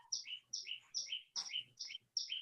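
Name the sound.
birds chirping outdoors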